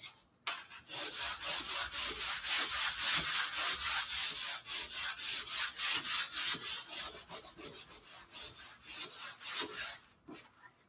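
Steady back-and-forth rasping of sanding on a cereal box cardboard cover for a junk journal, with rhythmic strokes continuing for about ten seconds, close and fairly loud with no talking.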